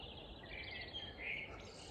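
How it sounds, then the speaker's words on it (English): Birds tweet and chirp faintly at dawn near a carp fishing lake, thin high calls repeating over a soft outdoor background hum. "You can hear the birds tweeting away."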